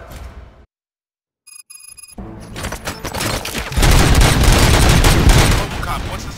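Bursts of rapid gunfire in RoboCop: Rogue City crackle loudly after a brief silence and a ringing electronic tone, building into a dense, sustained volley.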